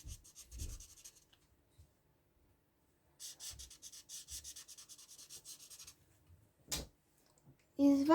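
A pencil sketches short strokes on paper for an anime girl drawing: bursts of quick scratchy rubbing in rhythmic runs, separated by quiet gaps, close and soft.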